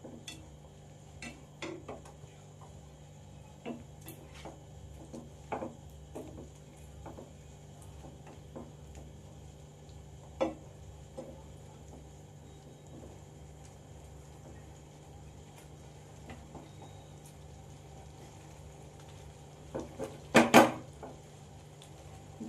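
Fried chicken being stirred in a cooking pan of butter garlic sauce, with faint scattered clinks and scrapes of a utensil against the pan over a steady low hum, one sharper cluster of knocks near the end.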